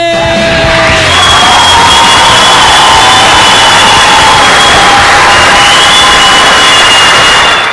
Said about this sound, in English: everyone, start clapping!